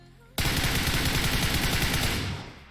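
Sustained automatic gunfire from a Groza or M416 in PUBG Mobile, a loud continuous burst that starts abruptly and lasts about two seconds before fading.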